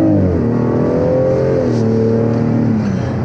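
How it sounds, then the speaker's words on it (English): A BMW X4 M40i's engine and exhaust rev hard, the deep tone rising and falling in pitch under load, loud and close throughout. "the BMW X4 makes a great noise, great exhaust note, especially in sport mode"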